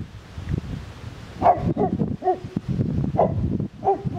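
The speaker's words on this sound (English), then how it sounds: "Something's got the dogs upset." Dogs at a campsite bark in short, sharp bursts, several separate woofs spaced unevenly over a few seconds, moderately close against a low rustling, wind-like background.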